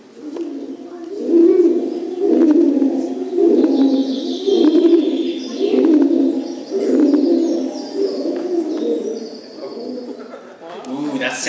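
Human voices imitate the call of a rock dove, repeating soft low cooing phrases in a steady rhythm, close and loud, as a group performs at a school bird calling contest.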